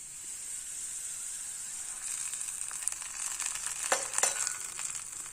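Hot tempering poured into chutney hisses with a steady, bright sizzle, rising into crackling spits and pops near the end before settling back to a soft fry.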